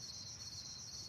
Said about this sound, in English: chirpy crickets